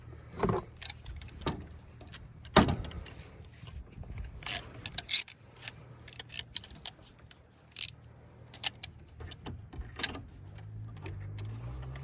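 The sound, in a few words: pulling top radiator hose off Toyota 2GR-FE engine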